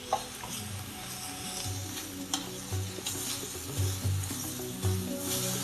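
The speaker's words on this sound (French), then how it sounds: "c'est en train de bouillir" Egusi soup with mushrooms bubbles and sizzles in a pot, a steady soft crackle with intermittent low bubbling pops throughout, close and moderately quiet, with no talking.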